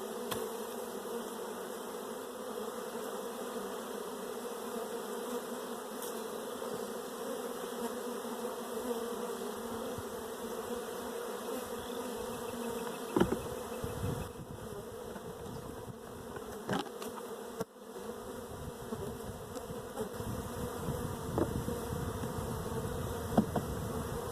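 Honeybees buzzing around an open hive during an inspection, a steady, dense drone of many insects close by, continuous throughout with occasional faint handling knocks.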